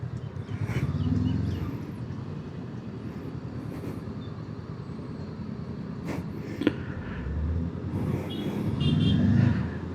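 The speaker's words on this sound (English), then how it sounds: "First traffic jam, and we are hardly reaching Gaimukh at Ghodbunder Road." Dense road traffic in a Sunday morning traffic jam on Ghodbunder Road near Gaimukh, a steady broad rumble of engines heard from inside a vehicle, with a brief higher squeal partway through.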